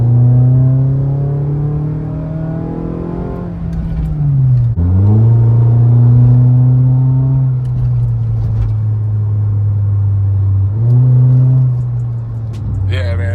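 A 2011-2016 Scion tC engine fitted with an Injen short ram air intake revs repeatedly through a deep, throaty aftermarket exhaust, rising and falling in pitch with several throttle blips, loud and close.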